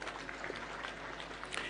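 Crowd applause in honor of the late Kenyan politician Elijah Omolo Gar at a political rally in Homa Bay, a steady dense patter of many hands lasting under two seconds, fairly faint and distant.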